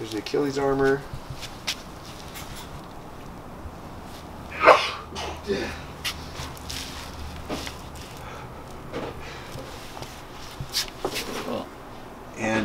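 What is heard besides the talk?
sneezing in the background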